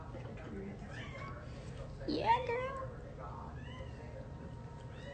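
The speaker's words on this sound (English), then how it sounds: "Is it a cat talking?" A pet cat meows once in a rising, drawn-out call at an indoor home livestream, moderately close, with people talking before and after it.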